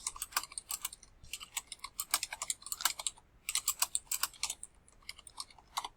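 Bursts of quick, crisp keystrokes on a computer keyboard enter a project name in a web app. The typing is close and clear, comes in several runs separated by short pauses, and no one speaks.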